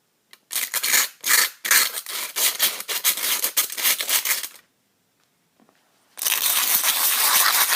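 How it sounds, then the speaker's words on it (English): Sandpaper rasps over the cut edges of a small homemade metal alcohol stove part in quick rhythmic strokes, close and loud, then a brief pause before another steady burst of sanding. "Get rid of this piece. Sand the edges."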